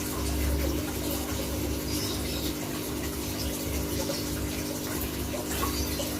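Water pours steadily into a measuring container, topping up a detergent solution to 250 ml for dilution. The flow is a continuous, even rush that holds for the whole stretch, with no talking.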